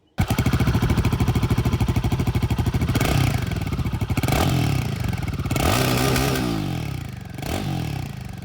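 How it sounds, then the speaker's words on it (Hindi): A Royal Enfield Himalayan 450 or Bajaj Dominar 400 motorcycle engine idles with a rapid, steady exhaust thump, then revs up a few times before settling back, loud and close. "दोनों ही बाइक की यहाँ पर जो एग्जॉस्ट साउंड है वो मैं आप लोगों को सुना दूँ"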